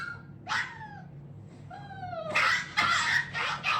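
A dog whimpers and yelps in rising, drawn-out cries, followed by several dull thumps mixed with sharp distressed yelps in quick succession, fairly close and with no talking.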